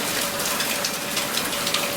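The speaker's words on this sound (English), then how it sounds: "Getting a decent monsoon rain, yay." Heavy monsoon rain pours down in a steady, dense hiss with patter on surfaces, loud and unbroken, with no voices.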